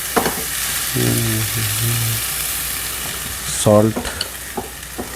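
Chopped vegetables for a veg omelet fry in a pan with a loud continuous sizzle and scraping stirs, as a voice briefly speaks twice over the cooking.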